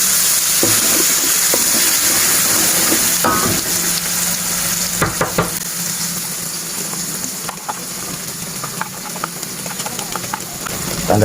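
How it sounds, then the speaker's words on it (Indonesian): Spice paste for tekwan broth sizzles and fries in hot oil, a loud continuous crackle with scattered pops and stirring scrapes from close by; a voice talks faintly now and then beneath it. "Bumbunya ditumis dulu"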